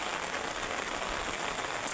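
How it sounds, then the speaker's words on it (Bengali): Heavy rain pours steadily in a rural village, a dense, even hiss that fills the whole stretch without pause, close and loud with no voices. "কী বৃষ্টি"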